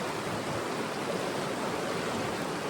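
A creek flows steadily beside a motorcycle campsite, a dense, constant rushing of water with no breaks, fairly close and alone without talk.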